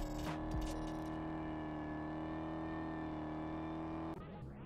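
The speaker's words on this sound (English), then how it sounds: "My car just wants to slide out on the sand." A race car in the Vehicle Legends video game sliding across sand, its engine holding a steady loud drone that cuts off near the end, with no talking.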